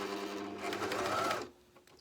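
A JUKI MCS-1500N coverstitch machine sews a hem with a hemming attachment, giving a steady close whirring stitch run that stops abruptly about three quarters through, followed by faint quiet clicks.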